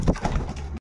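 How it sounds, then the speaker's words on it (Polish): Pigeon cooing from a young male racing pigeon in a loft among cocks awaiting pairing on a sunny day, a short, close, fairly loud throaty coo lasting under a second with no talk. "ładny gołąb"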